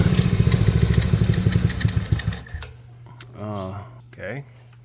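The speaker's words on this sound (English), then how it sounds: "So I've turned the idle way back down from where it was." An old engine, left sitting for many hours, idling after its idle was turned down: a fast, even ticking chug for a couple of seconds that then drops to a quiet low hum, followed by brief speech.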